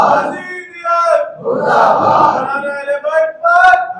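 Crowd at a religious majlis gathering in Jarimari, Kurla, Mumbai chanting a slogan in unison, loud bursts of many voices rising and falling in rhythmic phrases with short pauses between them.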